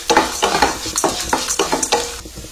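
Dry roasting coriander seeds, black peppercorns and dried red chillies in a pan for curry leaf rice: steady, close scraping and rattling stir strokes in a quick rhythm, with the seeds skittering across the hot metal and no voices.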